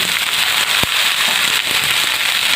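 Green beans fry in a hot pan while being stirred, giving a loud, continuous sizzle with sharp crackles and pops throughout.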